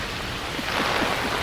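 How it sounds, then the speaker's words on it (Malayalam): Heavy rain pours down in Dubai, a dense, steady hiss of drops striking hard surfaces close by, with faint low rumbling underneath and no voices. "മോനെ ദുബായിൽ പെരുമഴ"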